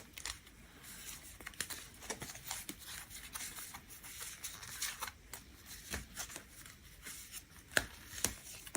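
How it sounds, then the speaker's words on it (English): Tarot cards being shuffled in repeated riffling bursts, crisp papery flicks and taps close by, with no voices. "shuffling the deck"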